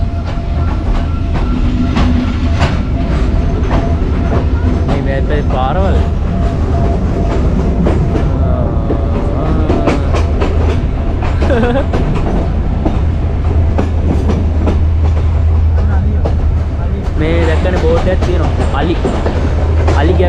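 The Jaffna intercity train on the Colombo to Jaffna line runs past Medawachchiya with a loud, continuous rumble and rhythmic clatter of wheels on rails, steady throughout, with a voice faintly heard under it.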